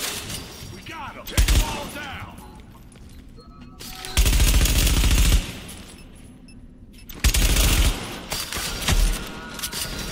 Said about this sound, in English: Shooting them.